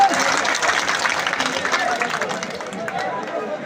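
Rally crowd in Viratnagar applauding, a continuous wash of many hands clapping mixed with crowd hubbub and voices, steady and fairly loud throughout, easing slightly toward the end.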